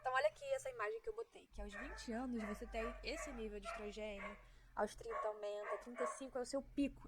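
A dog barks and yips in the background while a woman lectures over it, the barks sporadic and partly masked by her continuous speech.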